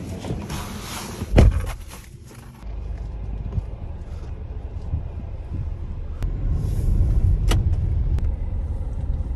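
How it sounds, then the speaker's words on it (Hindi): A car drives slowly through a deeply flooded road, water sloshing and rushing around the body with a low engine drone underneath, a loud splash near the start and a steady wash of water building toward the end. "बहुत ही बढ़िया स्विमिंग पूल में से लेके जा रहा हूँ गाड़ी को"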